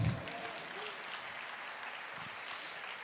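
Church congregation at a prayer meeting claps in a soft, even wash of applause, fairly distant and low in level, following a brief thump at the start.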